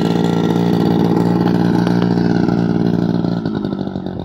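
A Jodel light aircraft engine runs close by at a steady, even rumble, holding a constant pace before easing slightly toward the end.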